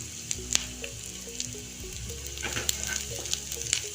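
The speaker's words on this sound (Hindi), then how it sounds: "इनको थोड़ी देर भून लेंगे।" Garlic, ginger and melon seeds frying for paneer do pyaza, a low, even sizzle with scattered sharp pops and occasional stirring clinks, fairly quiet throughout.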